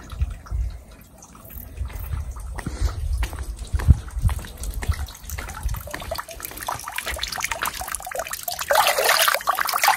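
Water from a mountain spring in Switzerland trickles and drips continuously outdoors, growing a bit louder and splashier toward the end.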